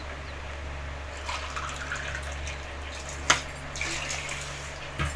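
Water pours and trickles steadily into a cooking pot of rice and black urad dal, with a brief clink partway through, no talking.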